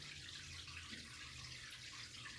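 Steady, fairly quiet pour of water from a watering can into an aquarium during a water change, a continuous splashing trickle with no talk.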